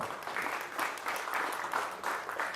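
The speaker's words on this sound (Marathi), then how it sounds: "टाळ्या पण तितक्या तगड्या झाल्या पाहिजे" A crowd at a Marathi television series launch event claps steadily in a dense wash of applause, surging in waves, with no one speaking over it.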